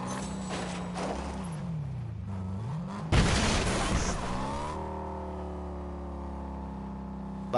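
Car driving around in Fortnite: a steady engine drone with pitch that dips and rises as it steers, then a loud noisy crash or burst before the engine settles into a smooth, even hum.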